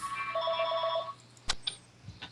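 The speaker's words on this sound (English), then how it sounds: "You have to excuse that phone ring" Telephone ringing with an electronic warbling trill that sounds for about a second and then stops, followed by a few faint clicks and soft handling noises.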